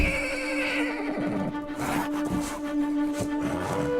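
A horse whinnies loudly with a strong, sustained tonal cry over steady background noise, close by, lasting the whole few seconds.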